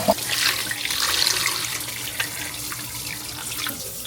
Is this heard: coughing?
no